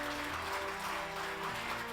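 Audience applause at the 2021 Samsung Ho-Am Prize award ceremony as parents accept the engineering prize on a professor's behalf; a sustained, even crowd clapping, moderately distant, with a faint tonal backing underneath.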